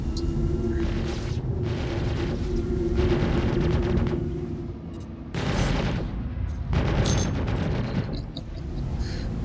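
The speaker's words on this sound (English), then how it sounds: "I think somebody's shooting me." Gunfire in a video game rattles at the player in loud, dense bursts of shots over a constant background rumble, with short gaps between volleys.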